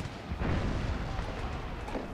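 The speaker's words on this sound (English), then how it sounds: "So, Confederate regulars and the Irish have opened fire." Muskets crackle and boom in a dense, continuous volley during an American Civil War video game battle, Confederate regulars and Irish troops firing together, with rumbling overlapping shots and no clear voices.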